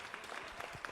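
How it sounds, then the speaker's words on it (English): A short burst of applause at a small election night gathering, a soft patter of clapping hands at low volume with no voices on top. "I'll give that one a round of applause."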